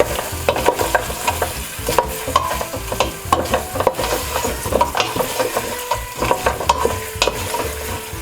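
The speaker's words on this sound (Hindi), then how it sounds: "दो से 3 मिनट तक इसको हमने गोश्त को भूनना है।" Beef pieces are stirred and fried in a pot with a loud, steady sizzle, and a spoon scrapes and knocks against the metal again and again, close by with no talking.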